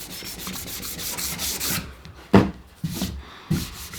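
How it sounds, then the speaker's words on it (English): Sanding on a wooden epoxy furniture piece: steady abrasive rubbing fills the first half, then a few louder separate scuffs and knocks follow. "I can sand everything up to its final grits and get it ready for finish"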